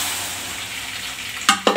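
Curry gravy poured into a hot frying pan of cooking food, giving a sudden loud sizzle after a quiet stretch, then a second burst of frying as it hits the oil.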